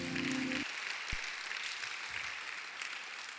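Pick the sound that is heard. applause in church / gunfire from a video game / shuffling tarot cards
applause in church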